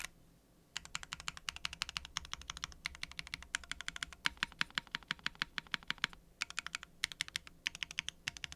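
Keystrokes from a gasket-mounted KBDFans Agar with aluminum plate, no foams, PBT die-sub keycaps and HMX linear switches start after a brief pause, then tap along in quick close bursts with short gaps, no voices present.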